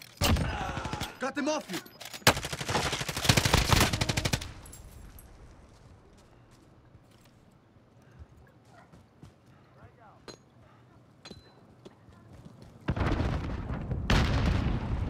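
Bursts of heavy gunfire and loud booms in Call of Duty Warzone, dense at the start and again near the end with a quieter gap between, while players talk over it.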